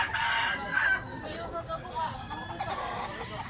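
A gamecock crows loudly and close by in a rural yard in Cebu, its strained call filling the first second before fading into softer clucking, with people chattering in the background.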